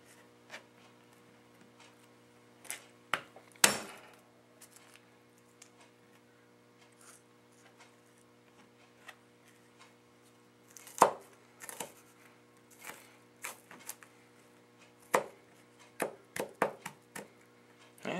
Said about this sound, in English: Now for the minced garlic, you just put it down, smash it with the fat end of your blade.